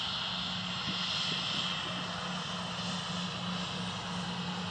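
A TUI airliner at Manchester Airport, its engine roar steady and fairly loud throughout with a broad hiss and low hum, no voices over it.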